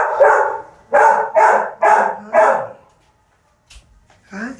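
A puppy at an animal shelter barks loudly five times in a steady rhythm, close by, then goes quiet before a short whimper and one more bark.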